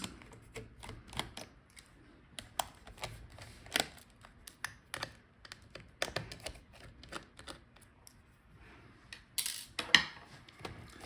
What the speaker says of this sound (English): now unscrew the screws